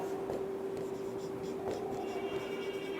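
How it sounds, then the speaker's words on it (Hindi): A definition is written on a board, producing faint, continuous scratchy strokes and light taps against a quiet room hum, with no talking over it. "तो मैं परिभाषा लिख देता हूं"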